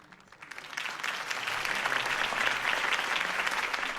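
A video game crowd breaks into applause that swells from a few claps to a steady, dense wash of clapping and holds there.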